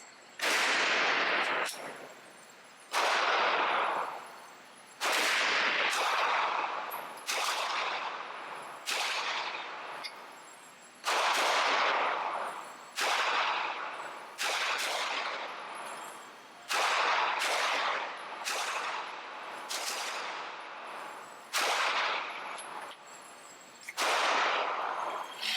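A Glock 43 pistol fires at a shooting range, about sixteen loud, sharp shots at uneven intervals of one to two seconds, each with a short ringing decay, no talking.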